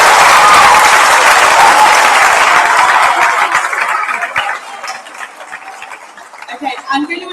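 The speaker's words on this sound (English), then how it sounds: "So I think you all need to give these guys a massive round of applause." A secondary school prizegiving audience breaks into a loud, dense round of applause that holds steady for several seconds before thinning and fading.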